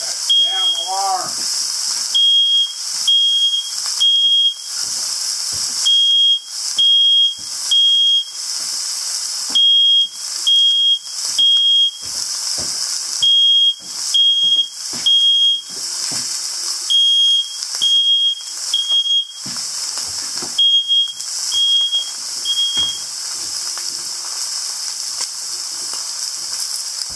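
A smoke alarm beeps in loud, evenly spaced bursts over a constant hot sizzle of steaks frying in a pan in an off-grid house kitchen.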